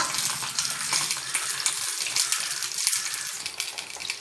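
Pearl spot fish (karimeen) sizzling in a hot pan, a loud, dense, continuous frying hiss and crackle close up, with no talking.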